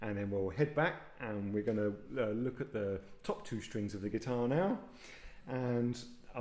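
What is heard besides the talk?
No everyday noise stands out behind the speech.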